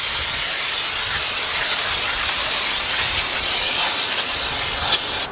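Brake parts cleaner is sprayed onto the brakes of a 2015 Ford F150, giving a steady close-up aerosol hiss that runs the whole time with a few brief spurts.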